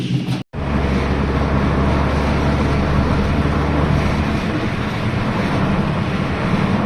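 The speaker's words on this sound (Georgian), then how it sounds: "როგორც ყოველთვის ქუთაისში არის სასწაული ქარი." Strong gusting wind in Kutaisi, Georgia, roars across the microphone as a steady, loud rush after a brief cutoff near the start, with no other clear sound above it.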